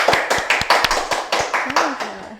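A small group claps hands to welcome a guest in a podcast studio, with about a dozen quick, close, sharp claps in a fast rhythm, then a voice briefly speaks near the end.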